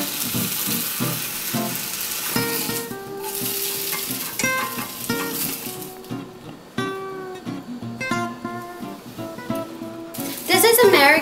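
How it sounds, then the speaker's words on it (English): Ham sizzles and spits in a hot pan, a steady close frying hiss with scattered crackles and a few clinks of a utensil throughout. "I'm just gonna put it in the pan for a little bit before putting it on the omelet"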